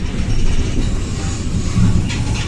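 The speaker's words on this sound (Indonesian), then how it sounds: "ini dia proses mundur lokomotif untuk pergantian lokomotif" A locomotive slowly reversing at Surabaya Kota station for a locomotive change, giving a steady low rumble of engine and rolling wheels with brief louder swells, close by and without speech.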